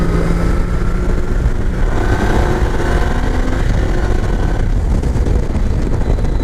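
A 2300cc Triumph Rocket III Classic Tour motorcycle accelerates smoothly on a test ride, its big engine droning loudly and steadily with rising pitch, heavy wind rush mixed in, close and sustained.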